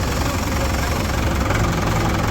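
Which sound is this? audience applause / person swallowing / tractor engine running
tractor engine running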